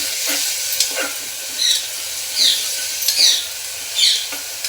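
Moong dal stir-fried in a pan, with a soft steady sizzle broken by rhythmic scraping strokes of a spatula roughly every second.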